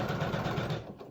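A sewing machine stitches quilted fabric with a fast, even, close-up mechanical hum and rapid needle rhythm that slows and stops near the end.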